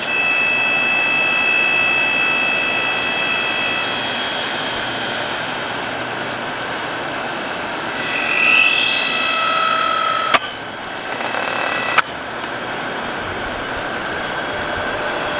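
A Powermate electric log splitter runs with a steady, loud motor drone and whine, a rising hydraulic tone partway through, then sharp clicks as the lever is worked, with no voices.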